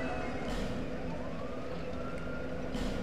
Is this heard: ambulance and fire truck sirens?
yes